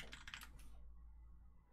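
Computer keyboard typing, a quick close burst of clicking keys lasting under a second, then quiet hum.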